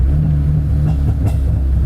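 A 1996 Honda Accord rolls slowly into a driveway, a loud close low engine rumble with a faint scrape, steady and brief with no voices.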